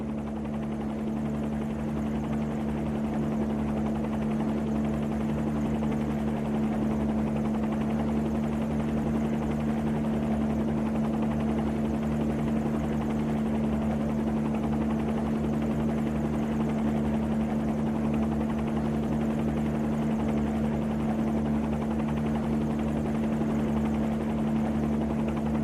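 A simulated Bell 47 helicopter's engine and rotor drone steadily in flight, a constant loud buzzing hum with a strong steady tone throughout.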